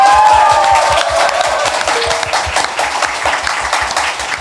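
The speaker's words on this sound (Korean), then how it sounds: "여러분의 힘찬 환호와 박수와 함께 시작하겠습니다" A television studio audience at the opening of a Korean talk show bursts into loud applause and cheering, dense rhythmic clapping close by with a whistle early on, gradually easing over a few seconds.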